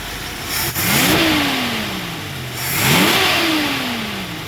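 A restored 1974 Ford Bronco V8 with a flat-tappet cam revs twice from idle, each blip rising sharply and then easing back down. The engine sounds loud and close, with no talk.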